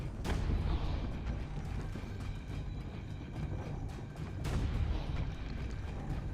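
Heavy cannon blasts in Assassin's Creed: Brotherhood, two sharp booms spaced a few seconds apart over a dense, low rumbling background of battle noise.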